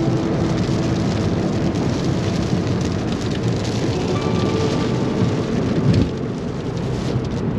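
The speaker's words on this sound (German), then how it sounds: "und der Regen ist wieder da" Steady rain drumming on a moving car during a road trip through the United States, a dense close hiss of drops on the body and glass with road rumble underneath, continuous and fairly loud without talk.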